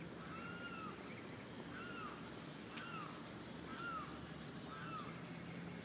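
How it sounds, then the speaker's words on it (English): A bird's repeated downward-sweeping calls ring out outdoors, about five evenly spaced calls over steady wind or water noise, moderately distant. "I wish I knew what kind of bird he was."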